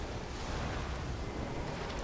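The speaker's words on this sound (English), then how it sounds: "big explosion" A huge explosion from the final boss in Elden Ring, a dense roaring rumble that fills the whole clip steadily and loudly with no talking.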